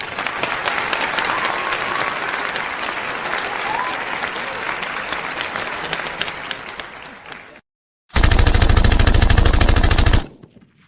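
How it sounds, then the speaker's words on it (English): Full, sustained applause for a podcast audience runs for about seven seconds and fades. After a brief silence, a loud, harsh, buzzing burst lasts about two seconds. "You deserve all of the applause for that."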